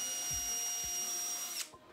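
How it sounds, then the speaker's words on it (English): A power drill pre-drills screw holes in a walnut sofa table, a close steady high whine that winds down sharply, with light knocks of the bit and workpiece. "I'll pre-drill holes for screws so I can attach the dividers"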